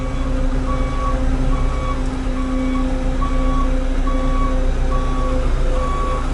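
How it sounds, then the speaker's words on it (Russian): Large Dynapac asphalt paver at a road works site in Yakutia, its diesel engine droning steadily while a reversing alarm sounds evenly spaced beeps throughout, close and continuous, with no voices. "Сейчас поедет второй укладчик, он побольше"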